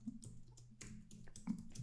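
Keys clatter on a computer keyboard in short irregular bursts while entering text into an AI automation tool, close and fairly quiet with brief gaps between clusters.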